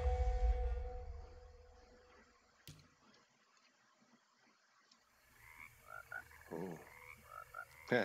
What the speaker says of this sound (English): Frog jump scare.